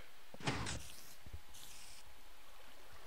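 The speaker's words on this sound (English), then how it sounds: "Open the door." A door opening in a blocky survival video game, heard as a short burst of clicking and swishing followed by a second fainter sliding sound, with no talking.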